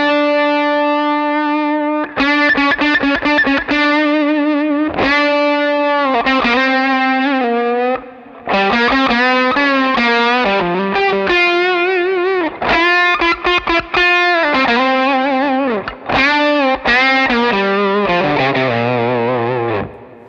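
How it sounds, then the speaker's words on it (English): Fuzzy, distorted electric guitar through a Keeley Aria overdrive pedal playing a sequence of sustained notes and bends, loud and saturated with a warm, buzzy germanium-style overdrive character, no talking. "So you can hear it's starting to get that fuzzy germanium thing."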